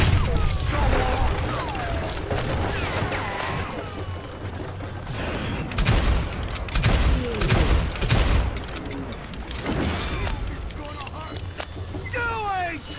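Repeated gunshots and booming blasts from the Western shooter game Call of Juarez Gunslinger, loud and close in rapid volleys, mixed with game character voices shouting.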